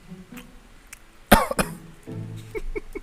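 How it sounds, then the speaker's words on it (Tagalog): Two sharp, close coughs break out in quick succession, followed by quieter throat sounds and faint murmuring. "May ubo din ako."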